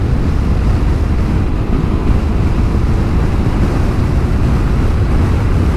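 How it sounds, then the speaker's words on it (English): Strong, constant wind roars across the microphone near the North Cape, Norway, a loud unbroken rumble with a faint surf-like wash underneath and no voices. "It is very windy."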